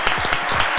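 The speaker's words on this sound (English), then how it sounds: "Round of applause, round of applause." An audience greeting comedian Jason Goliath claps in a steady, dense burst of applause, loud and close for the brief moment.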